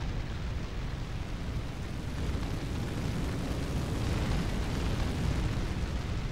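A raging fire in Breath of Fire IV: a steady, dense roar of crackling flames with a deep rumble, continuous and loud throughout, gradually swelling toward the end.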